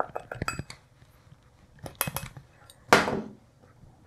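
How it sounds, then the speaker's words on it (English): A whisk works powdered sugar into whipped cream in a bowl, giving a few quick bursts of light metallic clinks and scrapes. The strokes come close and fairly clear, separated by brief pauses. "just gently whisk that in until it's incorporated"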